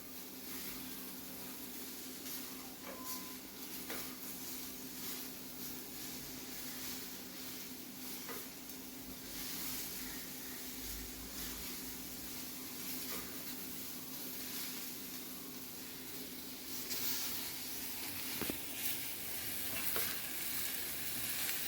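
Dry jackfruit and dried prawn vegetable is sautéed in a pan, a steady low sizzle with faint scraping stirs running throughout, fairly quiet and with no talk over it.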